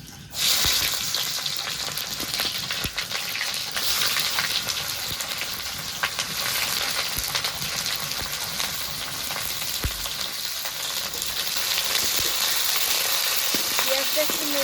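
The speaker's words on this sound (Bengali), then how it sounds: "তেল গরম হয়ে গেছে এবার ফোড়নে দিয়ে দেবো দুটো শুকনো লঙ্কা কটা গোটা জিরে এবার পেঁয়াজটা দিয়ে দেবো" Dried red chillies, whole cumin seeds and onion hit hot oil for chicken dum biryani, giving a loud, steady sizzle and crackle that runs unbroken throughout with no talking.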